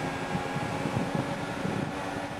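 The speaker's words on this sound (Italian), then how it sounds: "E sentite quel rumore strano del ventilatore perché è un caldo asfissiante" Steady whirring of a cooling fan in a hot room, a constant broadband hum and rush with no breaks, fairly loud and close, no voices.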